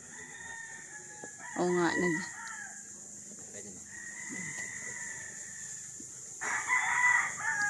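A rooster crows loudly nearby at a cockfighting training ground, a harsh harmonic call, followed later by a fainter crow and another strong one toward the end, with brief talk and constant insect hiss.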